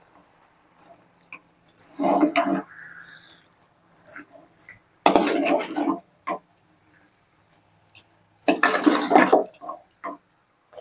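Raw chicken being mixed with masala, salt and turmeric in a pot makes three close, wet squelching and scraping bursts, separated by near silence.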